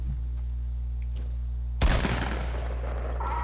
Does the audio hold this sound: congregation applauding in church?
no